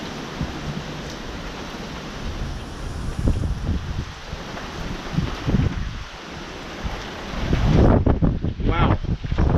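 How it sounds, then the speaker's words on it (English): Hurricane-force wind gusts during a severe wind storm roar and buffet the microphone, a loud continuous rumble that surges and swells, building to a stronger blast near the end. "Definitely hurricane force wind."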